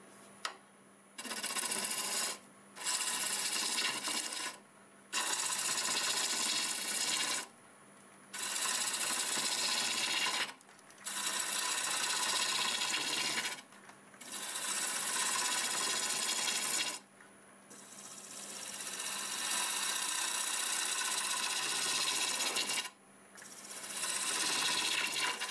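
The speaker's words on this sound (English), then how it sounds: "I'll take some more off with the roughing gouge." A roughing gouge cuts into very hard black walnut turning on a wood lathe, a loud, steady rasping whir close by, broken into repeated passes of a few seconds each with brief pauses between them.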